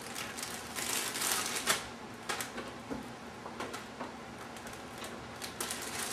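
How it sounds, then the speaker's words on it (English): A knife slices fresh ginger into pieces against a cutting board, a run of quick, crisp taps and clicks close by, with no voices. "I'm going to cut up my ginger."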